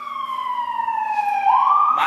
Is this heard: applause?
no